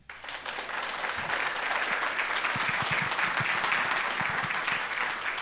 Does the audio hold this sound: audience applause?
yes